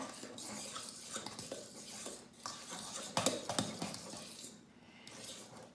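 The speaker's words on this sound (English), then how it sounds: "See if we can't melt that in there good. A good stir." Spoon stirring meatloaf mixture in a pan on the stove, a run of scraping and clinking strokes with faint sizzling underneath, close and fairly quiet, no voices.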